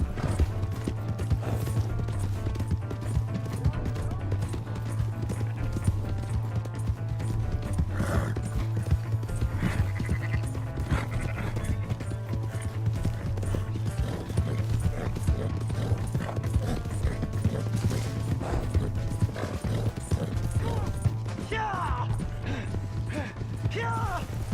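Rapid hoofbeats of a galloping horse in Red Dead Redemption 2 run continuously over a steady low hum, with occasional creaks and a brief whinny-like call.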